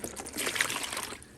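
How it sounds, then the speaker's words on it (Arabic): Coconut milk poured from a cup into a bowl, a close, steady trickling splash lasting just over a second before tapering off at the end. "وهنحط اول حاجه كوبايه اللبن"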